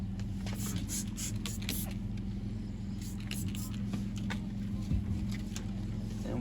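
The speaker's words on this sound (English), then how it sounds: "I'm gonna put some lubricant" Lubricant is sprayed onto a graphite Alloy Gator rim protector while it is fitted to a Tesla alloy wheel, giving repeated short hissing bursts over a steady low hum, close and moderately loud.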